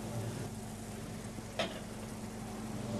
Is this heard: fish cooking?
yes